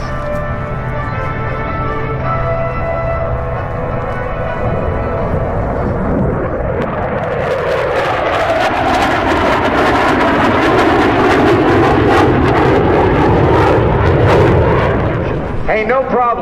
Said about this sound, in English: because it is time for the sneak pass.